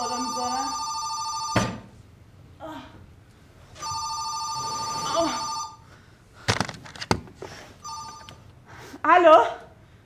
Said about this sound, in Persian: چرا تلفن تو هتل اینقدر بالا میذارن؟